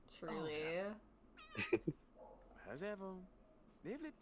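A large, fluffy cat meows repeatedly in The Sims video game, several drawn-out, pitch-bending calls spread across the moment, with a brief spoken word in between.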